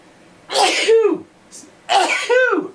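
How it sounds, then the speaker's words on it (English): Two sharp, loud sneezes close by, each a burst of breathy noise that trails off, separated by a short pause. "Sneeze."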